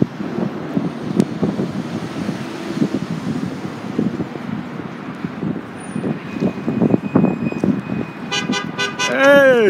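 Wind buffets the microphone over muffled voices and traffic, then near the end a loud car horn honks, its tone rising.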